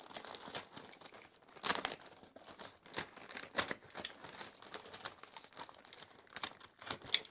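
Thick packing tape is ripped and peeled from a cardboard boot box, giving faint, close crinkling and tearing bursts in an uneven rhythm over several seconds.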